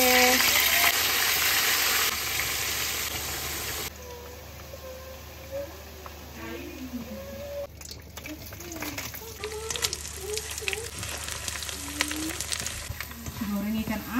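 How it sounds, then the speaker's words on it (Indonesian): Tempeh fries in hot oil, a steady crackling sizzle close by, while voices chatter intermittently over the frying. "Goreng tempe."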